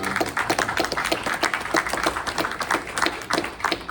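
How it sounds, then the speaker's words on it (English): Audience applause after a speaker is invited to the stage at an event: steady, dense clapping from many hands throughout, fairly close and loud, with no voices over it. "Give him a round of applause."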